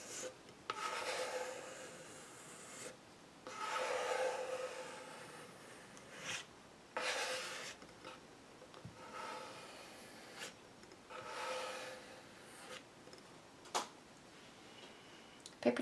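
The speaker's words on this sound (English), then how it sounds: "I'm just going to start squeegeeing him up" Squeegee rubbing magazine paper onto a collage, a series of close, dry scraping strokes in bursts of a second or two separated by short pauses, with no talking.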